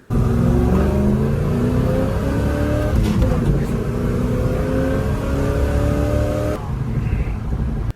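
A Pontiac car engine of about 200 horsepower revs loudly and steadily up close, its pitch climbing through gears, then easing off near the end.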